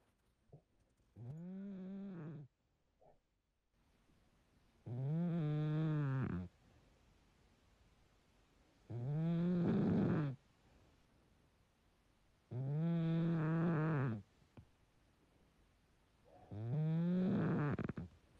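A man snoring in a played-back recording: five long, loud rasping snores in a slow, regular rhythm, each lasting over a second, with quiet breathing gaps between them and no talk.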